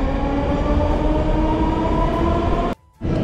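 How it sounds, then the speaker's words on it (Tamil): A Moscow metro train runs through Arbatskaya station with a loud, steady rumble and tonal whine, then cuts to near silence for a moment before the noise resumes. "ஸோ நாம் இப்போ இருக்க ஸ்டேஷன் தான் வந்து அர்பத்ஸ்கயா ஸ்டேஷனு."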